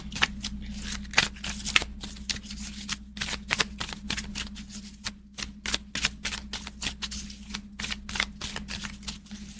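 Tarot-style hustle cards shuffled by hand in a steady run of crisp riffling slaps and flutters, close and fairly loud, with a low constant hum underneath and no talking.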